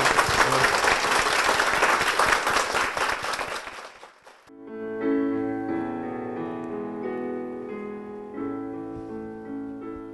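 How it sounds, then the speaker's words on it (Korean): A church congregation bursts into loud, dense applause for several seconds, then the clapping fades out and sustained music with organ-like tones takes over. "다시 한번 큰 박수 부탁드리겠습니다."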